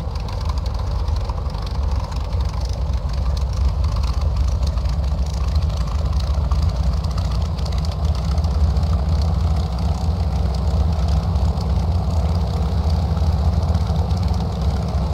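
A P-40F Warhawk's piston engine in a flight simulator runs up steadily to 1800 RPM, a loud, continuous low droning rumble that holds constant throughout with no talking.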